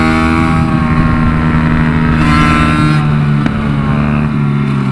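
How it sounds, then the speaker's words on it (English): A two-stroke minibike engine at a minibike race track drones loudly and steadily nearby, its buzzing tone holding with slight shifts in pitch and no talk over it. "Fun bike to ride, because it is a two-stroke and it has that behavior."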